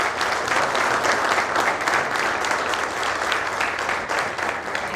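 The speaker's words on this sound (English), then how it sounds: "would you join me in extending a big round of applause and welcome to" Dense, steady audience applause in a hall welcoming a leadership talk speaker, loud and continuous with no talking over it.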